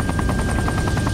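An Arma 3 helicopter in flight: loud, steady rotor thumps beating rapidly over a continuous turbine drone, close up and uninterrupted by speech.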